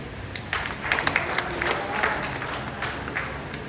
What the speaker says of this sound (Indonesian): Kenapa tepuk tangannya tidak meriah?